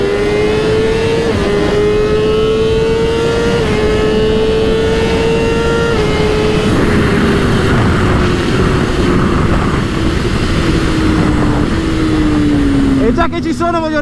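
A Honda CBR 1000RR-R sport motorcycle's engine roars at speed, a loud, sustained high-pitched wail that holds near and steady, then drops in pitch as the rider shifts or eases off, with a voice briefly over it.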